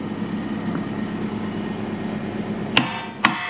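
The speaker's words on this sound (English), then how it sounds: "Get the hammer." A hammer strikes metal twice in quick succession near the end, two sharp loud clanks over a steady engine drone during a field repair of a machine's bolt and slide plates.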